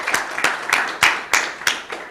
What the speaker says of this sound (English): So let's clap for them again.